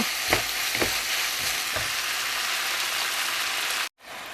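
Stink beans (sator) stir-fry with minced pork in a hot pan, a continuous crackling sizzle punctuated by a few scraping stirring strokes early on, before stopping suddenly.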